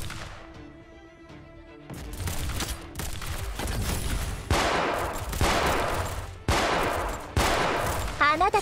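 Game gunfire from the Girls' Frontline video game, with bursts of shots and automatic fire in repeated volleys over music and effects, loud and dense after a quieter opening.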